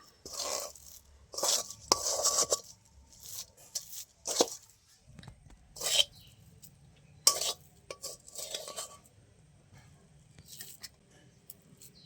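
Sandesh mixture scraped out of a wok (kadai) onto a plate, with intermittent metallic scraping and clinking strokes of a spatula against the pan, close and fairly quiet, and no talking.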